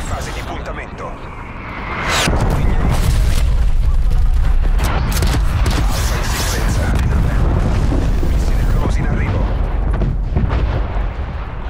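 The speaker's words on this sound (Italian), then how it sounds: "Artiglieria nemica in fase di puntamento." Enemy artillery strike in Call of Duty: Black Ops Cold War: loud, sustained rumbling explosions and impacts that swell after two seconds and keep pounding, with a distant aircraft-like roar beneath them.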